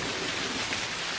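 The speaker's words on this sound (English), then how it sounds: "And this is rain." Steady rain falling, a dense even hiss of drops on surfaces, continuous and moderately loud with no other sounds or voices.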